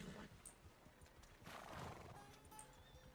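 A horse in the RedM Western roleplay game whinnies loudly while its hooves clip-clop, with a layer of ambient game noise underneath and no talking.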